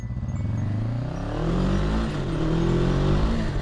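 A motorcycle engine drones steadily as the bike rides in a straight line, a loud close hum whose pitch rises and dips slightly with the throttle, with wind noise throughout.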